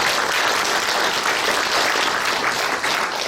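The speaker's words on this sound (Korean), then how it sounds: "박수 한 번" Loud, dense applause from an assembled congregation at a Korean lay Christian organizations' general assembly opening worship service, continuous clapping without a break.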